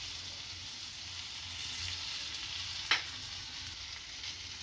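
Gram flour roasting in a pan for Kathiyawadi besan-stuffed green chillies gives a steady, soft sizzle that runs close and unbroken, with a single brief clink partway through and no voices.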